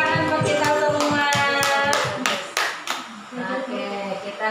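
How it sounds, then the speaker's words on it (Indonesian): A room of participants at a teachers' training session claps in a quick rhythmic burst that fades into scattered individual claps and murmured voices, close and fairly loud. "Tepuk tangan buat kita semua."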